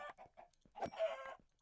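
Chickens in a video game cluck in a few short bursts, then a longer squawking call, loud and close with no talk over them.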